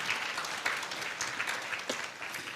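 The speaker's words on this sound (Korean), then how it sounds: "우리 앞으로도 역사하실 하나님께 모든 영광의 박수 한번 다시 한번 올려드리겠습니다" Congregation applause in a church service, a dense, continuous round of many hands clapping at moderate level with no voices over it.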